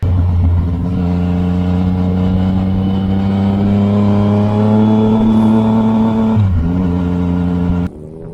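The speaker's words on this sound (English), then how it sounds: "The sound of this engine with a pipe is truly amazing." A Yamaha XSR 900 motorcycle engine with an aftermarket exhaust pipe runs at a strong, steady roar close by. Its throaty drone holds firm, dips briefly as the pitch shifts, then cuts sharply near the end.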